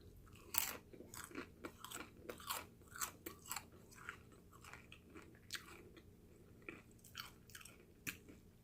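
Someone chewing crunchy Thai food, a snack that is creamy inside and crunchy outside, with close, crisp bites and wet munching in an irregular rhythm for several seconds and no talk.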